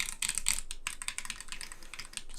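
Clacky switches on a Haute42 B16 leverless controller are pressed in rapid, irregular bursts like fast keyboard typing. The crisp clicks are close and even in level, with no talk.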